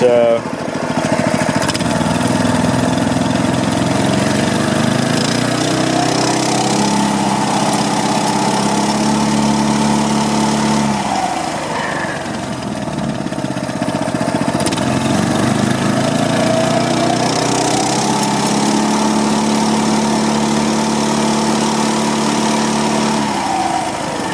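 A BT200X minibike engine with a newly fitted torque converter and Stage 1 kit runs steadily at fairly high revs, a loud droning hum with small pitch dips, close by and continuous.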